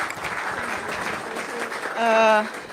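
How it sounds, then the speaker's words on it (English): Audience applause at a project management conference in Kosovo, a dense steady patter of clapping with a voice rising briefly over it near the end. "I will require from you a big applause for these 21 years girls, Enea and Denisa,"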